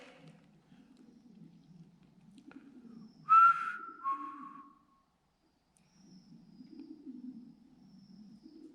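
A person whistles a few short, clear tones in a brief burst, set against a low background hum or murmur that runs before and after.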